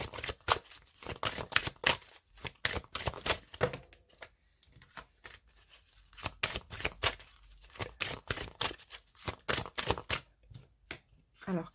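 A deck of cards being shuffled by hand for a card reading, with rapid, crisp riffling and flapping bursts in close, irregular runs and short pauses between them.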